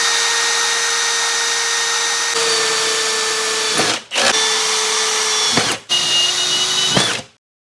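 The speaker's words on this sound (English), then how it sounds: "the holes aren't pre-drilled, so I'm going to pre-drill them" A power drill whirs loudly up close in three bursts, drilling pilot holes in a contractor truck cap, each stopping abruptly with a short pause between, the pitch sagging slightly under load.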